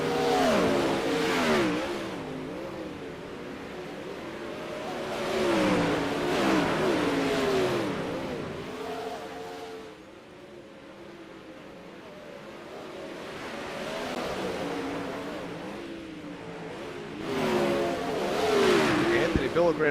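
360 sprint cars race around the Port Royal Speedway dirt oval, their engines roaring in repeated swelling passes every few seconds, loud and close, then fading as the field moves off, with crowd and track noise underneath.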